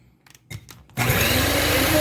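Eggs being beaten for an apple banana cake, likely with an electric mixer: a few soft taps, then a loud, steady motor whir that starts abruptly and runs on without pause.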